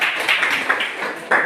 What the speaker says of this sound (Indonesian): Tepuk tangan dulu untuk Renaldi.